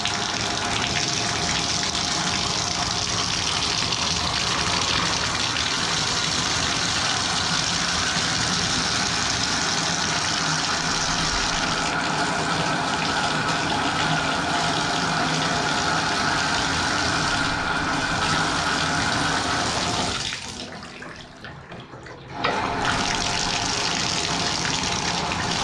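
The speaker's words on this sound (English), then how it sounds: "I'm ready to turn the water back on there." A bathtub faucet gushes loudly and steadily after the water is turned back on, with air in the line, pouring continuously for about twenty seconds before cutting out briefly and then resuming.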